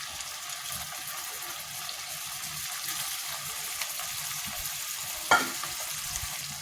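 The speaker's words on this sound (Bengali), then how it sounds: "এপাশে আমি কিছু মাছ কষিয়ে নিব।" Fish pieces sautéing in hot oil for a Bengali fish curry, a steady soft sizzle running throughout with one brief clink near the end.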